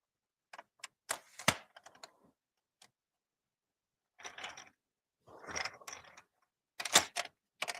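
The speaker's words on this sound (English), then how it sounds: "I'm going to lift the tripod" Camera tripod being lifted and adjusted indoors: scattered clicks, ticks and rattling mechanical knocks in separate bursts with silent gaps between, close and fairly quiet.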